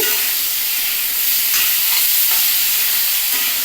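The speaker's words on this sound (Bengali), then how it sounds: "এটাকে ভালো করে ভেজে নিচ্ছি" Potatoes frying in oil in a pan give a steady, close hiss of sizzling with faint stirring scrapes running throughout.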